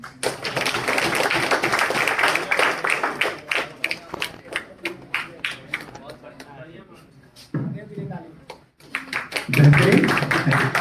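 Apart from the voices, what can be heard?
audience applause at Hindi Day celebration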